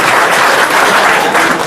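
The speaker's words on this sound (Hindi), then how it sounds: "एक बार ताली बजा के मुझे बता दें" An audience at a mushaira poetry gathering in Akola claps loudly and thickly in a brief, even burst, close and filling the hall.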